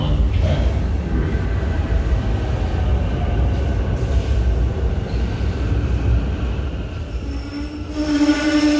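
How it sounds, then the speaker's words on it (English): A train arriving at Franklin Square station, a loud continuous rumble of wheels on track with a rising squeal of braking wheels near the end, heard from the platform. "The train is arriving."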